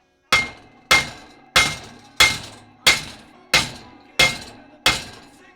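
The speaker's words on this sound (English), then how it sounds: "put this block of wood on here and whack it with a hammer" Eight sharp hammer blows strike a wooden block set on a JDM car wheel at a steady, even pace, each a loud close crack with a brief ringing decay.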